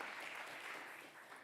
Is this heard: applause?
yes